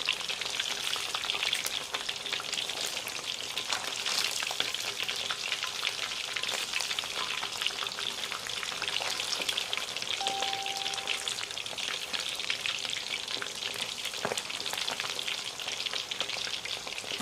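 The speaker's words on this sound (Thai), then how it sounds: "เดี๋ยวเราทอดไปเรื่อยๆนะคะ" Chicken deep-frying in hot oil at home, a long, unbroken crackle and bubbling sizzle like light rain, steady and moderately close, with occasional sharper pops and no speech.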